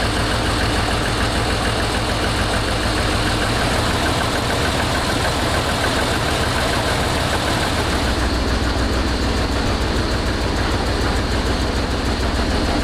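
A 1991 Jeep YJ engine idles loud and close on its first start in years, a dense continuous rumble with a rough, knocking pulse that holds steady throughout.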